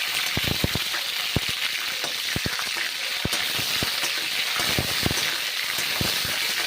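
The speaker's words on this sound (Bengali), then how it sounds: "ভেজে নিচ্ছি গরম তেলে বেশ ভালো করে ভেজে নেবো ফুলকপিগুলো এইভাবে ভেজে নিতে হবে" Cauliflower florets fry in hot oil, giving off a continuous loud sizzle with scattered sharp pops and crackles and the occasional stir, with no voices over it.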